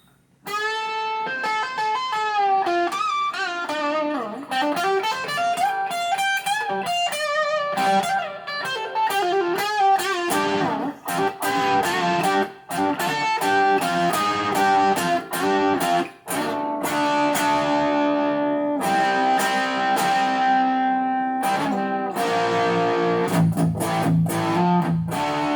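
A 1978 Gibson L7 guitar played through a Lab Series amp with reverb, ringing chords and single-note lines with a lush, slightly distorted tail, steady and close for the whole stretch without talk.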